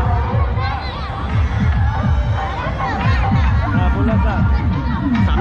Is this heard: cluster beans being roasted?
no